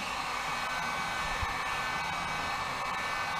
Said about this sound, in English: So I grab the heat gun, put it on full blast,